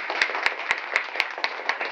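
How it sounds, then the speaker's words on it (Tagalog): Clapping from a seminar audience at a marketing plan presentation, heard as a fairly faint, steady patter of hand claps with regular sharper claps standing out, continuing evenly throughout. "yung palakpak nyo naman marinig sa YouTube"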